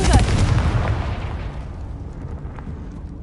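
The Confringo spell explodes in the Hogwarts Legacy video game with a loud, close, booming blast, its rumbling tail fading away over about three seconds.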